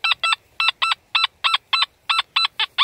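A metal detector in a UK field sounds its signal: a loud, close electronic tone pulsing in about a dozen even, rapid beeps with a buzzy, honking quality, alone without speech.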